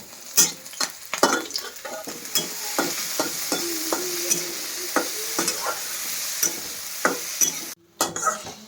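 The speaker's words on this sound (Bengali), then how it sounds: "এখানে কড়াই বসিয়ে দিয়েছিলাম এর মধ্যে এখন এই যে রসুন কুচি আর লঙ্কা কুচি দিয়ে দিলাম" Chopped garlic and chili frying in a wok with onion and tomato added, a steady close sizzle broken by repeated scraping stirs and spatula knocks against the pan.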